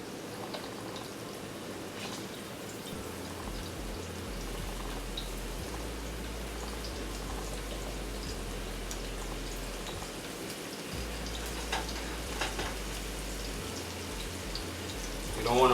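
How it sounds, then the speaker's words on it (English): King oyster mushrooms frying in a pan with teriyaki sauce, a steady low sizzle and bubbling that holds throughout at moderate volume, with faint talk over it. "You don't want to fry them too crisp."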